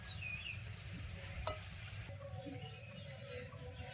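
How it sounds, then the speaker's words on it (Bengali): Dough for a palm fruit snack being mixed by hand in a bowl, a soft continuous rubbing and stirring texture with one brief clink midway, faint and close. "সবগুলো উপকরণ খুব ভালোভাবে মিশিয়ে নিয়েছি"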